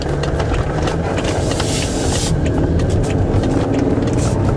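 A BMW 530d F10 M Sport diesel car drives and accelerates, a steady loud engine drone with road and wind noise filling the cabin continuously.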